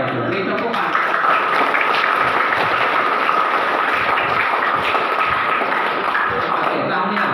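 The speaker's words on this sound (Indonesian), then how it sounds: "Beri tepukan." A crowd applauding at a school scout camp closing ceremony, dense continuous clapping of many hands, loud and sustained throughout with a low hum beneath.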